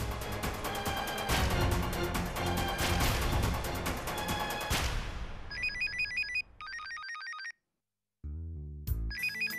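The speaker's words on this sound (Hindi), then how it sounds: "मैं भी फोन लगाती विकी को।" A telephone rings with a loud, repeating electronic tone, set against busy background music, then cuts to shorter bursts separated by a brief silence.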